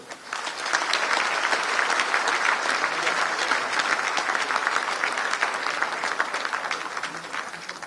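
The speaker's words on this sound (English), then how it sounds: "Let's give another big applause to them." Dense, sustained applause from a large audience at a Bangladesh investment summit, steady and loud for the whole stretch with no talk over it.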